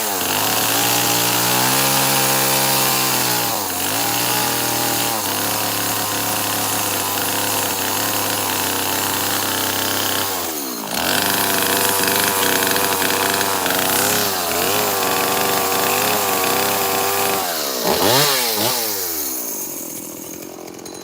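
A chainsaw cuts wood continuously at close range, loud and steady, with brief dips where it eases off and revs back up into the cut.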